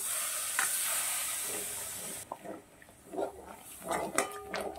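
Spice paste with ground cashew and raisin sizzles in oil in a pan, first a steady loud hiss, then quieter crackling with scraping stir strokes of a spoon against the pot.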